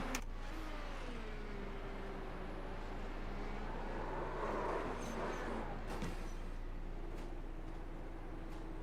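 Faint Indycar engine from the iRacing video game, with a whining tone that rises and falls as the car revs, plus a few sharp clunks, all quiet and distant.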